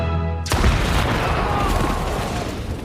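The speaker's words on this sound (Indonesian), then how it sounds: "akhirnya Merlin meledakkan ranjau itu" A landmine detonates in a film scene, a sudden loud boom after half a second of music, followed by a dense rumbling roar of debris that holds and slowly fades.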